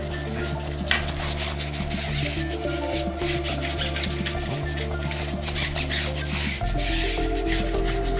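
Steady rubbing and scouring of a rusty cast iron pan, a continuous gritty scrubbing texture with a low hum underneath, moderately loud and unbroken for the whole stretch.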